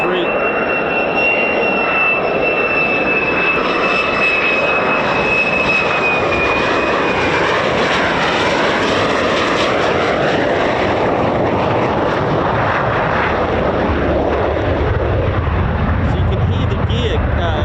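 F-15 and F-35 fighter jets flying at RAF Lakenheath, a loud continuous jet roar that swells and shifts in pitch as the aircraft pass, heard from a distance beside the runway.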